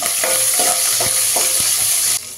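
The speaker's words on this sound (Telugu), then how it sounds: "జీలకర్ర ఆవాలు వేగినాయండి. 3 పచ్చిమిర్చి సన్నగా తరిగి వేసుకున్నాం. ఇక్కడ కలుపుకుందాం." Cumin seeds, mustard seeds and finely chopped green chillies frying in hot oil, a loud close sizzle with a few quick stirring scrapes and taps of a spoon against the pan, no voices.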